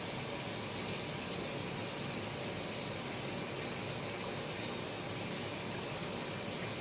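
Tap water runs steadily while quinoa is rinsed, a continuous broadband hiss and splash that stays constant and fairly loud throughout without a break or voice.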